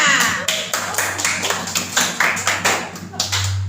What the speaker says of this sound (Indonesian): tepuk tangan untuk anak-anak semuanya